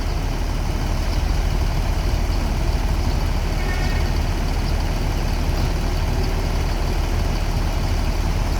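A luxurious Padang bus, an anniversary edition, idles nearby with a steady, deep diesel rumble that holds an even level throughout and has no speech over it.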